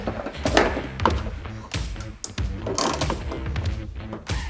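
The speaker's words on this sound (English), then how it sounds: "Now I'm going to use a ratchet here, get it nice and tight." Ratchet wrench clicking as a bolt is tightened while fitting a door lock on a Ford Transit Connect van, a series of close, uneven mechanical clicks and clunks with no talk.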